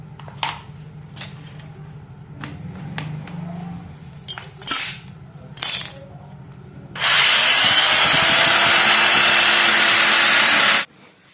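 An electric drill bores into the hardened steel shaft of a washing machine spin dryer: a few scattered knocks and taps, then one loud, sustained high-pitched drilling run of about four seconds that stops abruptly.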